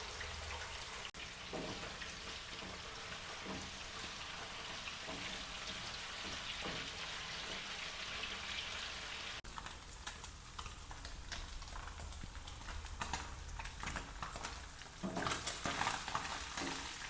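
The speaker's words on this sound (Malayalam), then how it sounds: "We need to fry all this fish like this." Chopped sardine pieces fry in hot coconut oil with curry leaves for a homemade fish pickle, a dense steady sizzle with occasional stirring and clinks of a pan, no talking.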